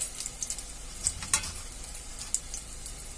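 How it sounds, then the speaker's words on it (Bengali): Mustard oil heats in a wok, giving a soft, steady sizzle with a few faint crackles and pops. "কড়াইতে সরষের তেল দিয়ে দিয়েছি।"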